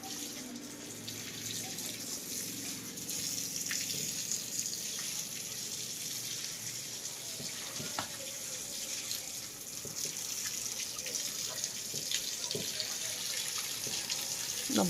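Water gushes from an open hose pipe in a steady, close, unbroken rush, with a few faint splashes and drips along the way.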